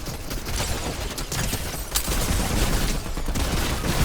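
Rapid weapon fire from a Fortnite match rattles almost continuously, dense bursts of shots filling the whole stretch with no pause.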